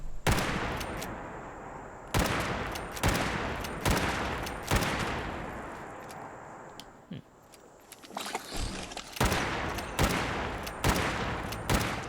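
Repeated bursts of video game gunfire in Fallout 76, loud and close, with fusillades of shots separated by brief pauses and a short quieter stretch midway.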